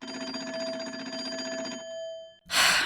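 A telephone rings in the Nancy Drew: Secret of the Old Clock video game, a steady metallic bell trill sounding continuously for almost two seconds before stopping, heard alone with no talk, followed by a louder noise burst.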